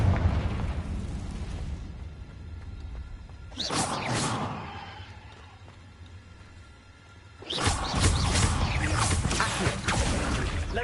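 The Confringo spell is cast in the video game Hogwarts Legacy, producing two fiery bursts: a short whooshing blast, then a longer, louder roaring explosion a few seconds later, with quieter ambience between them.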